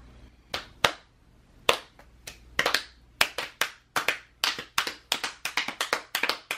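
A burst of hand clapping, sparse single claps at first and then quickening into steady, loud applause from one or a few people, with no voices.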